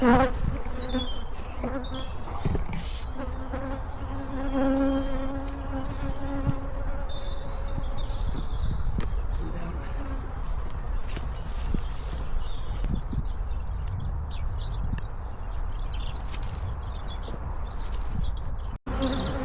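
Honey bees swarm thickly around an opened hive at an apiary, a loud, dense, continuous buzzing drone close by with occasional clicks and knocks of hive handling and no talk.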